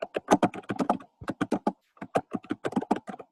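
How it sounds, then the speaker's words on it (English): Rapid bursts of keyboard typing on a computer during an online class, clustered keystrokes with a short pause midway, close and clear with no talking. "I think she's typing"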